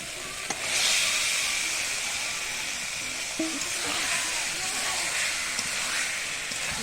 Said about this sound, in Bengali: মাংসটা দিয়ে এবার কিছুক্ষণ মাংসটাকে এভাবে কষিয়ে নেব